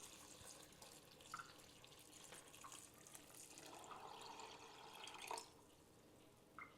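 Filtered water runs into a pot for home-made Southern baked beans, a soft, fairly faint trickle of pouring with small splashes and a brief louder gush near the end.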